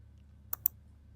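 Two quick, crisp mouse clicks on a send button, close and sharp over a quiet background hum.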